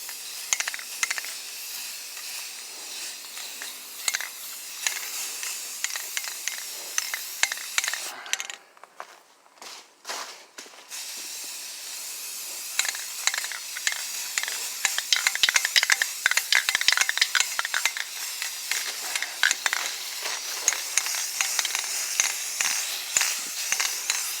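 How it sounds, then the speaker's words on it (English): Self-etching primer sprayed from an aerosol can onto a car wheel during a disc brake conversion on a 1958 Plymouth. It gives a steady close hiss in bursts, with a short break partway through. "I'm going to go ahead and spray this with some self-etching."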